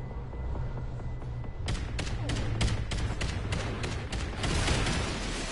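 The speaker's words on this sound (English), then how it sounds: "Because that is an explosion." A string of explosions and gunfire bursts in the Call of Duty Ghosts video game, several sharp loud blasts in a rapid series over a steady rumbling game soundscape.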